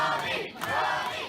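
A wrestling crowd at a Campbelltown show roars and cheers loudly and continuously, a dense wall of voices with a brief dip midway before swelling again.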